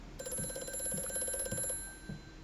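A telephone in Amnesia: A Machine for Pigs rings with a rapid electric trilling bell in one long burst, then falls silent. The ringing is fairly quiet, with faint dull thuds beneath it.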